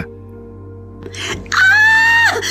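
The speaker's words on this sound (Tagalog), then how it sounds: "Biglang pumailang lang sa ere ang isang makapanindig balahibong hiyaw mula sa loob ng bahay." A bloodcurdling scream rings out from inside a house: after a soft rustle, a loud, sustained, wavering wail rises close by and holds for nearly a second before breaking off.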